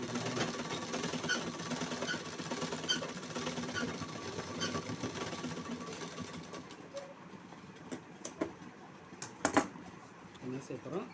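A sewing machine stitches a blouse for an elderly woman, running in a steady whirring stretch for several seconds before stopping, followed by a few short clicks and bursts close by.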